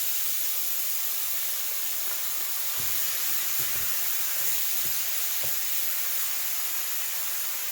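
Shrimp and ground pork sizzle on a Dash griddle while banh xeo filling is cooked, a steady close hiss of frying with a few soft scraping knocks from a utensil.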